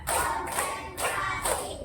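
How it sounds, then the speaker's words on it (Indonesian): Several rounds of rhythmic hand clapping in a school classroom, heard as three dense bursts about half a second apart, fairly close and with no talking over them. "Tepuk satu, tepuk dua, tepuk tiga, tepuk empat,"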